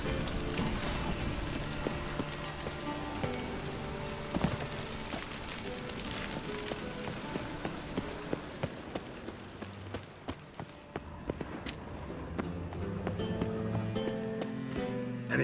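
Steady rain in The Witcher 3: Wild Hunt patters on a surface, with scattered drips and a soft musical drone underneath, the downpour thinning partway through.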